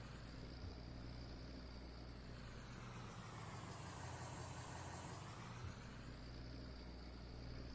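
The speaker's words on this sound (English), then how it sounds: "Let's get the Cummins warmed up here." A Ram 5500 truck's Cummins diesel engine idles steadily as it warms up, a low continuous rumble with a faint whine that dips and recovers midway, no voices.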